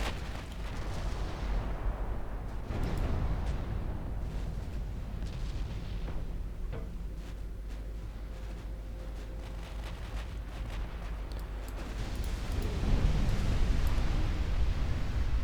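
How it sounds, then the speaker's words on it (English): Torpedo striking a warship in the naval game Ultimate Admiral Dreadnought, a long roaring explosion with rumbling booms that swell again near the end, loud and sustained with no talk. "And the torpedo hit the Lippe."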